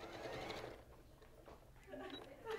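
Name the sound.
sewing machine stitching a curve on a quilt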